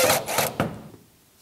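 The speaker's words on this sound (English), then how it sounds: "put a little crosshair at the top, drive in two screws" Two screws are driven into a wall while marking with masking tape: a short, close grinding rasp in quick pulses that stops abruptly and fades into quiet.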